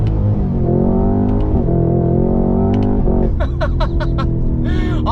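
A Cadillac CT5-V Blackwing's 6.2-litre supercharged V8 roars loudly under full throttle, climbing in pitch through the revs before sharp upshifts in the 10-speed automatic crack between gears, close and dominant.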